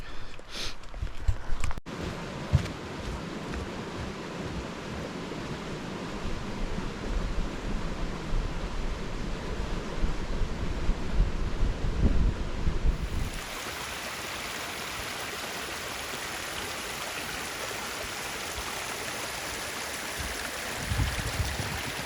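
Steady broadband rush of flowing stream water, loud and close, with a few knocks early on; the texture shifts to a smoother hiss partway through.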